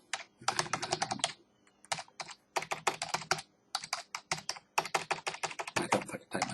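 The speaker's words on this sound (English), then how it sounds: "I don't know if I can type my password incorrectly" Fast, close bursts of typing on a computer keyboard as a password is entered, with clusters of crisp key clicks separated by short pauses throughout.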